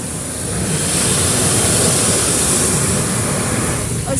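An automatic car wash rinse spray on a Ryko Radius HT at VIP Car Wash, a loud continuous rushing hiss of water jets drumming on the car, steady for the whole span.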